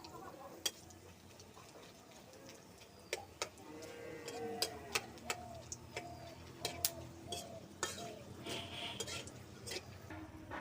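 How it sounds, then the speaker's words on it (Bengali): Whole garam masala, cardamom and chilies tempering in hot oil for a Bengali doi katla fish dish: faint, scattered pops and sharp crackles with light utensil clinks over a quiet kitchen background. "গরম মশলা, এলাচ আর লঙ্কা ফোড়ন দিচ্ছি।"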